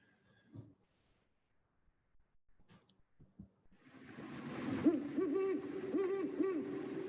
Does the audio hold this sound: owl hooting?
yes